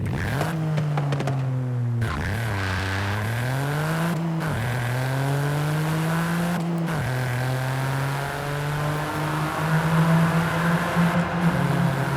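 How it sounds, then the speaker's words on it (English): A three-cylinder all-wheel-drive car engine revs up through the gears, its note climbing in pitch, dropping at each slow shift and rising again, loud and close with a buzzy, throaty tone and no talking. "We've got a 3-cylinder engine, all-wheel drive, and it's sick."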